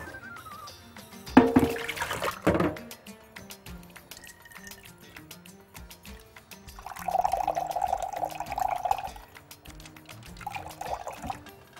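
A small amount of water is poured into food while cooking in a home kitchen, with a short splashing pour followed by a longer trickle and some clinks, no voices.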